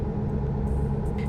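A steady car engine drone at speed in a driving simulator game, cruising around 75 miles an hour; a loud, continuous low rumble with no breaks and a few faint high clicks toward the end.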